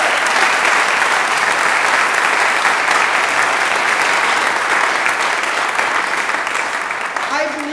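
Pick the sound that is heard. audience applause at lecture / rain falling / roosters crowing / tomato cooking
audience applause at lecture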